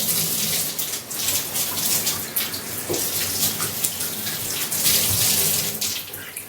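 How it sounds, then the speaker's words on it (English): Cold water runs steadily from a tap over a wig being rinsed, in a loud, continuous rush that splashes and gurgles close by, with no one talking. "The first thing I do is I like to rinse it off in cold water."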